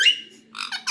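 A peacock gives one short, harsh squawking call at close range, cut off and mixed with high, breathy noise.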